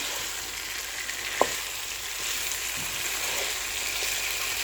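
Cooked chicken being mixed into a biryani pan, a continuous steady sizzle of frying with a single sharp scrape of the utensil and a few soft stirring knocks.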